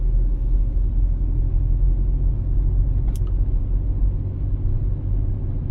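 Steady low rumble of a car interior moving slowly along a city driving-exam route in Zhytomyr, loud and constant, with one brief faint click partway through and no talking.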